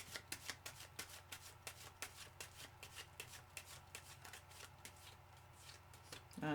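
Tarot cards being shuffled close by in a quiet room, a quick run of soft crisp riffles and taps in an irregular rhythm that carries on throughout over a low steady hum.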